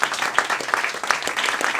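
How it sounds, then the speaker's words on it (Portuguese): Brief burst of audience applause at a Halloween stand-up comedy show, a lively crowd clapping steadily with a few sharper claps up front. "Palmas para a fantasia do TCC."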